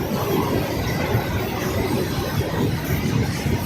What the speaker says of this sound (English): This was the last goods wagon of this train.